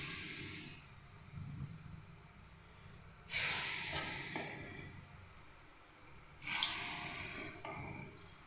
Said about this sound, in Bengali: তেল দিয়ে দিয়েছি, তেল গরম হয়ে গেছে। এবার বড়া ভেজে নেব।